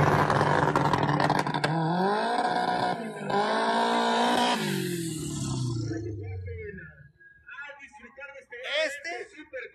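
Drag race cars launching at the Francisco Villa international autodrome in Chihuahua, a Beetle Turbo among them: loud rising engine howls sweep up through the gears, then fade into the distance as a voice talks over the end.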